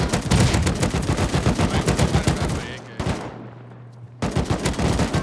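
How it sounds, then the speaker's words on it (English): Rapid gunfire from Rust at close range: a long, dense automatic burst, a short pause with a faint low hum, then another sustained volley. "That guy shooting at us?"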